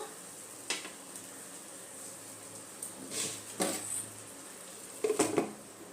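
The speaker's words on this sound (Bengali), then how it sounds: "5 মিনিট আমি টমেটোটা একটু মশলার সাথে কষিয়ে নেব" Tomato is sautéed with spices in a pan for a cauliflower roast, giving a soft, quiet sizzle broken by a few sharp clinks and scrapes of a utensil against metal.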